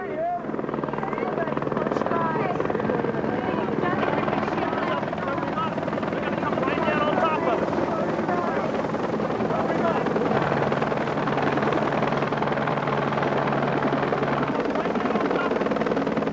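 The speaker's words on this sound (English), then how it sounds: "There was a very faint whirring of a helicopter that we could hear." A helicopter's rotor thrums steadily throughout, loud and continuous as if passing close overhead, with faint voices underneath.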